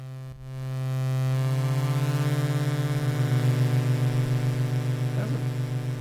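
A sawtooth wave synth tone from Ableton Live's Analog instrument sustains as a buzzy, harmonically rich drone, holding steady with a slight pulsing wobble for several seconds, with no voices.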